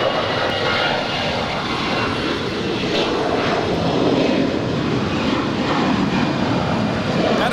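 An Alaska Airlines Airbus A320, nine years old, roars steadily down runway 25 right at LAX on its departure, a loud, sustained jet engine rumble with no talk over it.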